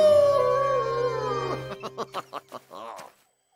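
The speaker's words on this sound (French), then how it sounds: "Il y a un loup!" Cartoon wolf howl, a long wavering tone for about a second and a half, then a run of short rhythmic yelps and a final bark-like cry, loud and close, set against a music or effects bed.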